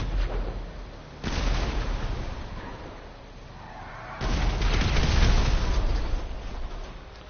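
Rhino tank cannon fire and explosions in Grand Theft Auto V Online, two heavy booming blasts with long rumbling tails, loud and close, heard alone without talk.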